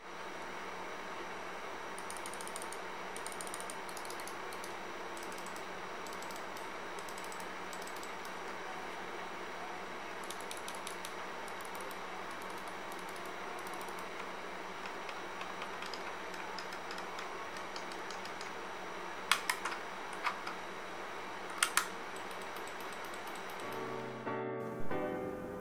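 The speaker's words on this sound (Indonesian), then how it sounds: "berikut ini suara saat mouse-nya diklik" A Logitech G502 gaming mouse clicks in scattered sharp ticks, some in quick clusters, over a steady fan-like background hiss, with a louder pair of clicks near the end.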